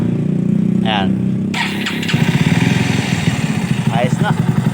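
A Rouser 180 motorcycle with a new starter motor cranks and catches, then idles with a steady, close, pulsing engine rhythm; someone talks over it.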